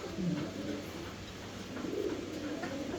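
Fancy Lahori pigeons coo softly in a loft, with several low, throaty rolling coos repeating at close range over a quiet background hum.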